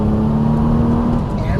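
A Nissan GT-R accelerates hard on a race track, its engine note rising loudly and close in a strong revving tone that climbs smoothly over a short burst.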